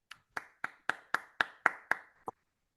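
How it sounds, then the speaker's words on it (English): A single pair of hands claps about nine times at an even pace, crisp and close, with no crowd or voices. "Please, round of applause for Dane Ince."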